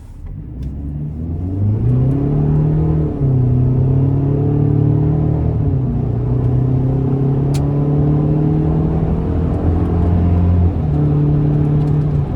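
A 2025 Chevy Silverado 1500 LT Trail Boss TurboMax pickup pulls away under moderate throttle, its engine note rising steadily and dipping at each gear change, a loud continuous drone heard from inside the cab with no talking.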